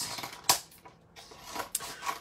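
Scissors snipping through a stack of paper to make strips for a collage, two or three sharp close cuts with quiet rustling between them and no talking.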